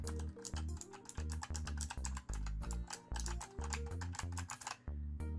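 Rapid keystrokes on a Razer gaming keyboard, crisp clicky taps in quick irregular bursts with short pauses, close and clear.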